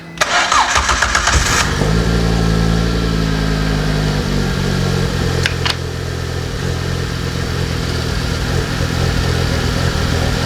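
A car engine starts and settles into a loud, steady running hum that continues for several seconds, with a brief clatter near the start.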